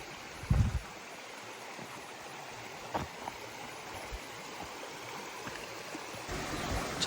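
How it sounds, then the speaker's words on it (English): A creek flows along the Appalachian Trail in a soft, steady wash. A few brief thumps and footstep-like knocks sit above the water, and no one speaks. "I'm walking along this creek"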